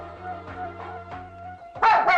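A dog barks a few times close by near the end, two loud yaps after a stretch of steady background hum.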